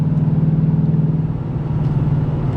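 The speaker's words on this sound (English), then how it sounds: "Car sounds pretty good." A 2024 Ford Mustang GT Premium V8 hums at a steady, low drone while cruising, heard from inside the cabin with no talk over the continuous engine tone.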